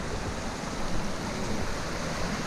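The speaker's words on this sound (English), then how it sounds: "This is our first legitimate stream crossing." Water rushes steadily through a deep stream crossing, a dense continuous broadband wash with no pauses, close by and moderately loud.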